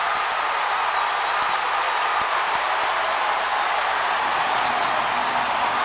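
A football stadium crowd roars in a broad, sustained wash of cheering and applause after a fumble recovery in a Clemson versus South Carolina game, loud and steady throughout, with no distinct voices.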